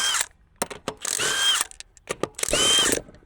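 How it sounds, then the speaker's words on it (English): Impact wrench loosening lug nuts on a Can-Am X3, with three loud rattling whirring bursts separated by short clanks and gaps, close and alone without talk. "But we have an impact, so here we go."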